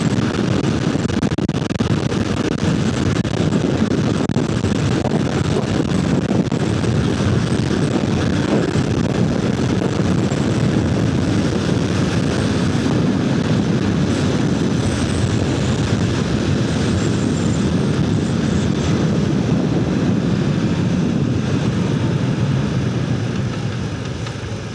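An R18 motorcycle engine drones steadily while riding, a continuous rumbling roar mixed with wind rush that stays loud and even from start to finish, with no talking.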